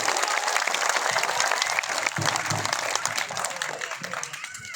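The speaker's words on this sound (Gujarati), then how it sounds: "એના માટે તાળીઓનો ગડગડાટ થઈ જાય" Audience applause at a political rally in Kadi, a dense, steady wash of clapping from a large crowd, loud and continuous before thinning slightly toward the end.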